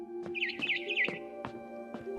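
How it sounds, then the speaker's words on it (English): A barn swallow chirping outside a window in the game What Remains of Edith Finch: a quick run of high twittering notes near the start, set among soft clicking taps and a low sustained musical hum. "Then I heard chirping outside my window."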